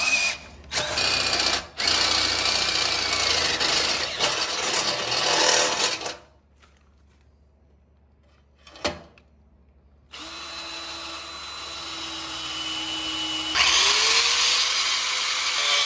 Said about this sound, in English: it's a little bit larger drill bit that should reach all the way through the bottom